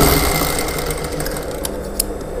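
Domestic sewing machine stitching a straight seam on a blouse lining, a loud, continuous, even mechanical whir, close by, with a couple of small clicks near the end.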